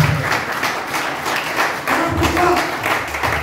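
A church congregation at a French evangelical service breaks into loud applause and cheering, a broad wash of clapping and voices that swells over a few seconds.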